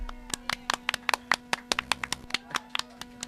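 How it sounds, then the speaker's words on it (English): Sparse, individual hand claps ring out from a small audience at a comedy or wrestling-style show, uneven and sharp, roughly a dozen distinct claps over a few seconds with a steady hum underneath. "Can we get a round of applause for Fat Tony"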